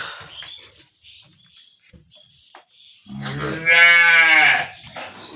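A dairy cow at a cattle sale lets out one loud, drawn-out moo after a stretch of quiet with faint rustling and small knocks nearby.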